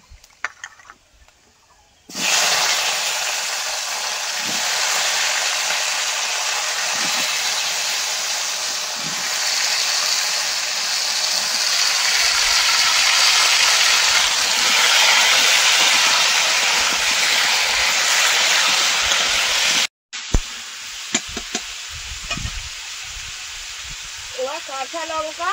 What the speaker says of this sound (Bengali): পেঁয়াজটা একটু তেলে ভেজে নেব। এবার আলু আর আমগুলো দিয়ে দেবো।